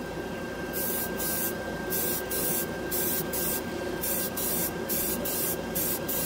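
Airbrush spraying ChromaAir scale model paint, a steady close hiss of air and paint running under a constant high whine, pulsing in short regular bursts as the trigger is worked, with no voices.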